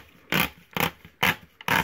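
Scrap paper tears against a homemade tear ruler in four short, crisp rasping rips, evenly spaced and close up, with no voices.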